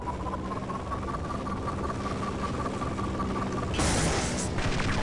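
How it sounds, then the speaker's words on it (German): A fully charged weapon shot fires in the Half-Life video game. A steady electronic hum with a whining tone gives way to a sudden loud, crackling blast near the end. "Ich versuche es jetzt echt mal mit einem komplett voll aufgeladenen Schuss."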